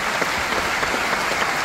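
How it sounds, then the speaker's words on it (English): An audience at the Cannes Film Festival applauds the Un Certain Regard jury as they are introduced, a dense, continuous wash of clapping at full strength that stays level throughout the brief burst. "Plus fort les applaudissements"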